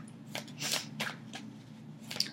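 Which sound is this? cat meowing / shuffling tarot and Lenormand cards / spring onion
shuffling tarot and Lenormand cards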